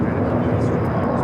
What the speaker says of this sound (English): Viva Aerobus A321 Neo taking off.